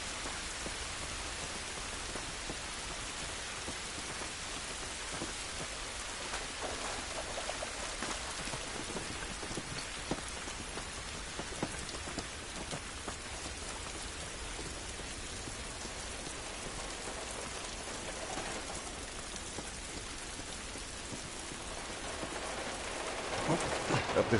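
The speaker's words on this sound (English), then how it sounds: "This rain ain't gonna do us any good." Steady rain falls outdoors, a dense, even hiss of drops on surfaces that continues unbroken throughout and grows a little louder at the very end.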